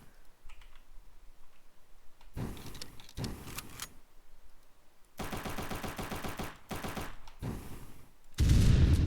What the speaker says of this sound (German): Oh mein Gott, ist die Waffe schlimm mit Schalldämpfer